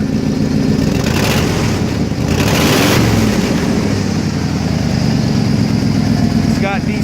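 A 1990 Ford F250 truck engine, revived after sitting unused for three years on old gas, runs steadily at idle with a continuous low rumble throughout, and a voice speaks over it.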